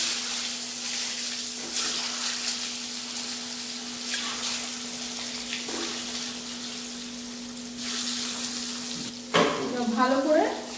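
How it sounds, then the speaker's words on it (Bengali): Eggs are dropped one at a time into hot oil with turmeric and salt, giving a constant hiss with a steady low hum under it; a sharper, bubbling burst of spitting comes near the end. "এবার এক এক করে ডিমগুলো তেলের মধ্যে ছেড়ে দেবো।"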